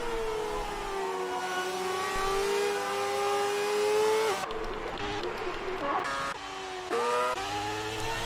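Red Bull Formula 1 car in F1 2019 on a lap of the Hungarian circuit, its high-pitched engine wailing up through the gears with steady rising revs, then dropping and climbing again through corners, loud and close.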